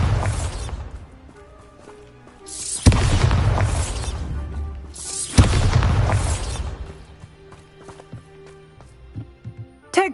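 Bombarda spell explosions in the video game Hogwarts Legacy, three deep, booming blasts spaced a few seconds apart, each with a long rumbling decay, followed by softer game effects at the end.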